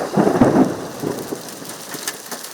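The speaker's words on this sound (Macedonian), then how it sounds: "темни облаци го покрија Ларце, кои донесоа дожд и град" A thunderstorm with rain and hail over a village: low rumbling thunder swells at the start, then fades into steady hiss of rain and scattered drops striking surfaces.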